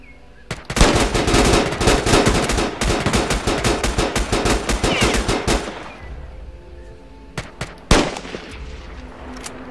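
Video game gunfire: a long burst of rapid automatic shots, loud and close, fades after about five seconds, then a few isolated single shots follow, with no talking.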